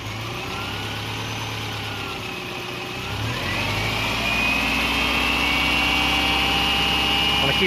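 A car engine idles steadily while its alternator charges a DIY LiFePO4 lithium battery, a low continuous hum with a faint whine that rises and settles a little louder partway through.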